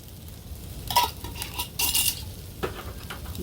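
Milk being whisked into a quick roux in a pan at an island campsite, the whisk scraping and clinking against the metal in short bursts, close up, with no talk.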